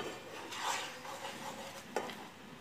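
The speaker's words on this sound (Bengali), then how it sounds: "আর দিচ্ছি থেতো করা এলাচ দিয়ে আমি ভালো করে একটু নেড়ে নিচ্ছি" Melted sugar with crushed cardamom being stirred in a pan, a faint scraping and soft sizzle with a few light utensil scrapes and one sharper clink, quiet and close.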